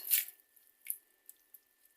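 Currants and jostaberries being rinsed in water, giving a few soft wet squishes and drips: one louder burst at the start, then scattered quieter splashes, close by with no talking.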